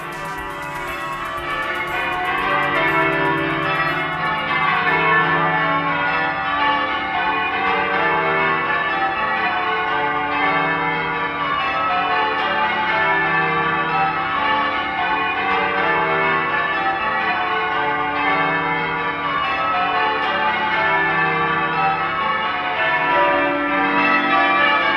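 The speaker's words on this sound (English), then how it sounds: "a full complement of bell ringers right here in the bell tower of St Columb's Cathedral" A full peal of church bells rung by bell ringers in the tower of St Columb's Cathedral, Derry~Londonderry, with steady overlapping strikes heard loud and close for the whole stretch.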